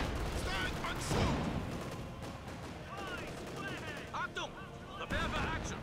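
Rapid gunfire bursts from Company of Heroes 2 gameplay on the Port of Hamburg map, with machine gun and rifle shots crackling in a busy battle mix while a player talks over it.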